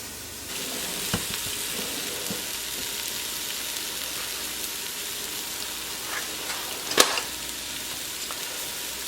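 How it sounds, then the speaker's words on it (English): Meatballs fry in a pan, a steady close sizzle and crackle with scattered pops and one sharp clack near the end, no talking. "I moved the camera over just so you could see the meatballs in here cooking."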